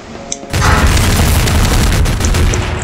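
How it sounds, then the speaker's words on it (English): Dynamite detonates in Garry's Mod with a sudden loud, close boom that swells into a sustained roaring rumble for a few seconds, no speech over it. "Boom goes the dynamite."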